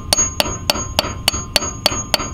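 A hammer strikes a clutch pilot bearing into place on a Nissan 240SX S13 coupe: eight sharp metallic blows at a steady, even rhythm, close and loud over a faint background hum.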